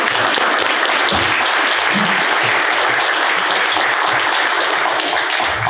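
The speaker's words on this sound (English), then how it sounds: "Let's give the panel a round of applause." A transportation forum audience gives the panel loud, dense, sustained applause that continues evenly from start to finish.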